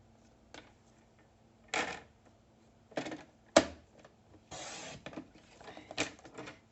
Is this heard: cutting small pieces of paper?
yes